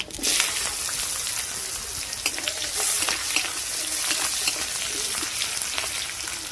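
Bitter gourd with dry red chilli and five-spice seeds fries in hot oil, a steady hiss and crackle with occasional scraping of a spatula throughout, close up and with no voices.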